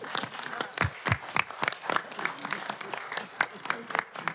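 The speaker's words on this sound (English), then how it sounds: "let's give her a round of applause for that" Audience at a city council meeting in Mobile breaks into applause, a steady patter of many hands clapping at moderate distance that fills the room for several seconds.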